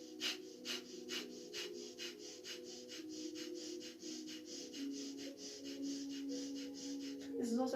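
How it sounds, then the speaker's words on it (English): Quick, evenly spaced breaths are pushed in and out through the left nostril as a seated yoga breathing exercise, forming a fast steady huffing rhythm of close, moderate puffs over a low tonal background. "breathe in and out rapidly through your left nostril"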